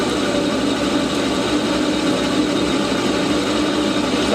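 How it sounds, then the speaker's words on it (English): A small lathe fitted with a negative geometry toolholder turns 1045 steel under a heavy cut, giving a steady, loud motor drone with a cutting hiss and a low hum throughout. No talking is heard. "I slowed my feed rate down for this because it was bogging the lathe down"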